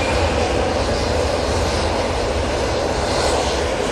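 A passenger aircraft begins its takeoff roll at Manchester Airport, a steady, loud broadband engine roar holding constant throughout with no voices.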